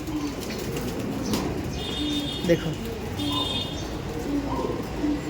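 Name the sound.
Ablook breed pigeons cooing in a loft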